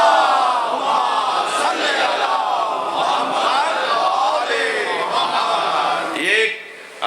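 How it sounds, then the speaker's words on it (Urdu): Congregation at a Muharram majlis recites salawat louder in unison, a broad swelling chorus of many voices that holds strong for several seconds, then briefly drops before rising again. "اس سے بہتر اور بلند صلوات پڑھیں۔"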